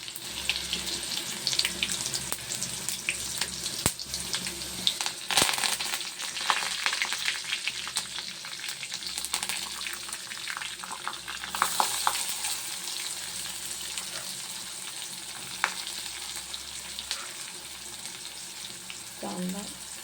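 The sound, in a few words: cumin, mustard seeds and garlic frying in oil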